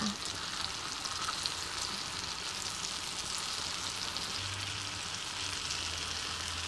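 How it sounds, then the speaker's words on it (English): Apples cooking with brown sugar and butter in a pan over medium-low heat give a soft, steady sizzle and bubbling, continuous and fairly quiet, with no talking. "So while the apples, brown sugar, and butter are cooking"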